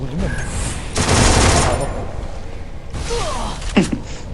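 Gunfire in an online shooter video game, with bursts of rapid automatic fire and a few single shots, loud and near, mixed with brief voices.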